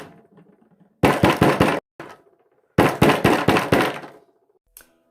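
Knocking on a bedroom window at night: two loud bursts of rapid knocks, about five to six raps each, close and sharp, with silence between them and a single faint tap near the end.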